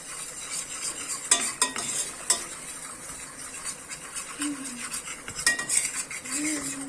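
A spoon stirs and scrapes a flour mixture roasting in fat in a cooking pan, with steady metallic scraping and clinks, a faint sizzle underneath, close and fairly loud with no talking.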